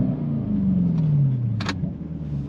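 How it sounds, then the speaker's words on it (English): A Jaguar XF R (X250) idling at a red light gives a deep engine rumble that rises and then eases back off, close and loud, followed by a brief mechanical clink, with no talking. "Give it a quick rev."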